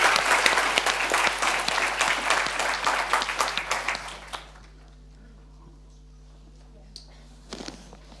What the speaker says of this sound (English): let's join the round of applause